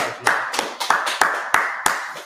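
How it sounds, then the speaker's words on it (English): Class members in a brotherhood class clap together in a slow, steady rhythm, six sharp, distinct claps roughly a third of a second apart, close and fairly loud. "Let's clap, man."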